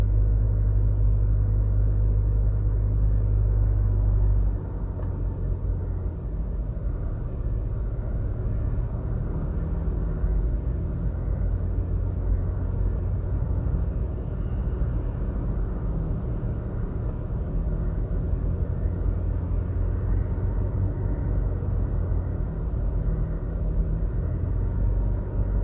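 Traffic on a busy road beside a gas station in St Catherine, Jamaica: a steady low rumble of passing vehicles, heaviest at first and then settling into a continuous whirring drone, with no voices.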